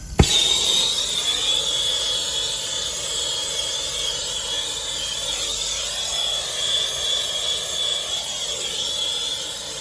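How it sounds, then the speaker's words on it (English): A steady roaring hiss from a torch flame carries on after a sharp click at the start, melting paint off copper irrigation pipe, with a constant high whine and slight shifts in pitch. "from the torch to melt the paint off so I can expose the copper"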